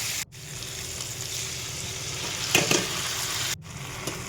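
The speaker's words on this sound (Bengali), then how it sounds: "নাড়াচাড়া দিয়ে বাটা মশলাটা দিয়ে দেবো" Potatoes fried with salt, turmeric and a ground spice paste of onion and garlic: a continuous soft sizzle from the pan with an occasional stir or scrape, broken briefly twice by cuts, and no talking.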